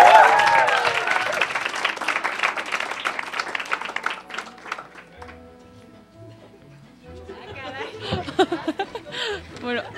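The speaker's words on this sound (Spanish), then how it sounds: "¡Un aplauso!" An audience at the Premios Wannabe 2010 awards applauds loudly for about four seconds, then the clapping fades into quieter murmurs, chuckles and a voice speaking.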